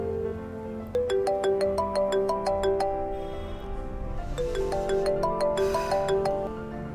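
A phone ringtone chimes out a bright repeating melody while a call goes unanswered. It starts about a second in and keeps playing steadily and loudly to the end.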